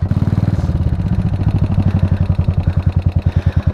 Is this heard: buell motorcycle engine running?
yes